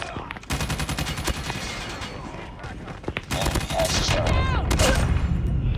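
LK gun firing in a Legendary Ranked video game match, rapid bursts of automatic gunfire, close and loud, with heavier mixed shooting and effects in the later seconds.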